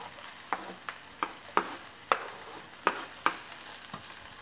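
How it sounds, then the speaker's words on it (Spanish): Spring onion and onion brown in a pan, a quiet sizzle punctuated by about nine crisp, evenly spaced stirring taps and scrapes. "se está dorando el cebollín y la cebolla"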